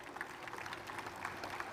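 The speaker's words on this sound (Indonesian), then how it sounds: "Tepuk tangan buat kita semuanya." A seated audience at a book-launch motivational talk claps together, a faint, distant patter of many hands that stays fairly even for a couple of seconds.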